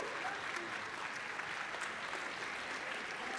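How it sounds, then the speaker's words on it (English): Steady, dense applause from an audience honoring a varsity football team, filling the whole stretch at even volume with no voices standing out. "Give them a round of applause."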